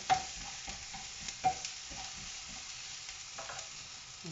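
Onions and a little meat frying in a pan, a steady soft sizzle broken by several sharp scrapes and clacks of a utensil stirring the food, fairly quiet and with no voices.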